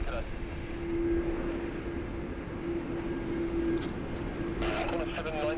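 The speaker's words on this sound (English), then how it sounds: "here she is, Qantas Flight 63, bound for Johannesburg. Just taxiing past the Atlas Air contingent" A Qantas airliner, Flight 63 bound for Johannesburg, taxis at Sydney Airport past cargo bays, producing a steady engine drone and whine with a persistent tone, heard from a distance alongside broadband airport noise.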